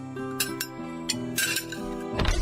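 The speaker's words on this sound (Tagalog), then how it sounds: "maglagay na tayo ng mga plato at kubyertos dito sa lamesa" Plates and cutlery are laid on a dining table: several sharp clinks and clatters of dishes and silverware, close and fairly loud, with no one speaking.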